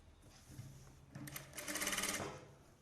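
A sewing machine stitches a folded blouse lining in one short, close run that starts softly and speeds up, after brief light handling.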